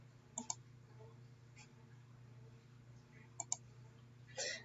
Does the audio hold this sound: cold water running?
no